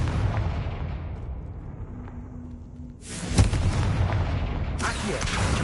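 Fire spell explosions in the Hogwarts Legacy video game, a rumbling boom followed by two sudden loud blasts with crackling tails, fairly close and alone.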